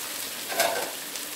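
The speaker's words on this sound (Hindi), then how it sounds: "आप सब्ज़ियाँ फ्राई करते हैं और आंटी में रखिए यहाँ पर फ्राई क्योंकि हमें सब्ज़ियों को हाई फ्लेम पर ही फ्राई करना है" Vegetables frying on a high flame in a home kitchen, a soft steady sizzle with a brief louder stir or crackle in the middle, fairly quiet throughout.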